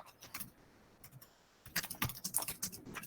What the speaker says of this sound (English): there's my typing that everybody gets to see.